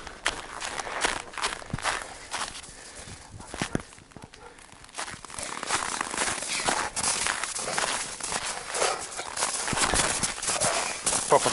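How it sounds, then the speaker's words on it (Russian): Quick, soft footsteps of a man running in slippers patter across a floor in an irregular rhythm, close by, with a few brief sounds mixed in. "Папа в тапочках бегает."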